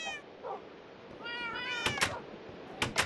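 Several cat meows from the Minecraft video game, a run of clear harmonic cries repeated in quick succession, loud and close, followed by short sharp clicking hits, with no talking over them.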